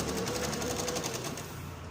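A sewing machine stitches a V-neck frock in a rapid, even needle rattle, close and steady through the whole stretch.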